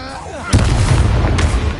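A Bombarda spell blast in Hogwarts Legacy lands as a sudden loud booming explosion with a broad rumbling tail, a second thump following about a second later.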